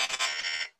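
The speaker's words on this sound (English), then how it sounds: "the alarms still go off on your phone" A phone alarm goes off in a short burst of bright, repeated electronic beeping, loud and close, ending abruptly with no talking.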